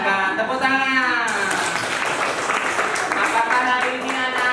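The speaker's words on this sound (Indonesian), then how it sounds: "Tepuk tangan." Schoolchildren in a classroom clapping together in sustained, fairly loud applause, with voices chanting over the clapping throughout.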